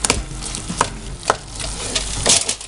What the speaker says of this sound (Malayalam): ഈ ഉരുളക്കിഴങ്ങെല്ലാം നമുക്ക് ഉടച്ചു കൊടുക്കാം.